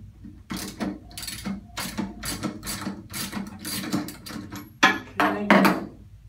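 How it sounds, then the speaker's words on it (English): A 19 mm socket ratchet on an extension loosens the prop lock nut of a Sleipner Side-Power SE60 boat thruster, making rapid bursts of sharp mechanical clicking in uneven groups, close and loud, with no voice. "we're going to take our socket, 19 millimeter, on an extension, and we're going to remove this"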